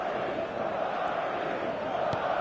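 A stadium crowd on football match day roars as one steady, dense wall of noise, loud and continuous with no pauses or distinct voices standing out.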